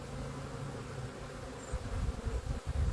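Honey bees buzzing around an open hive during an inspection, a close, dense, continuous droning hum with no talking.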